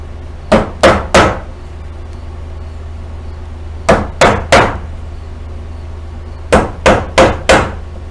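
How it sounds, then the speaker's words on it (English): A hammer whacks a wooden pallet to break it down, with three groups of three sharp, loud blows separated by pauses, over a low steady hum. "a couple more whacks for these anyway"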